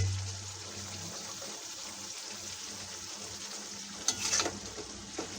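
Pieces of pointed gourd go into a pan of frying potatoes and coriander leaves, giving a soft continuous sizzle with brief louder stirring scrapes near the end.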